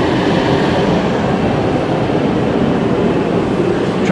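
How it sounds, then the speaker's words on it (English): Portable heaters run continuously while warming a boat mold in a workshop, giving a steady, loud broadband roar with no breaks or voices. "And that noise you hear, we're running some heaters."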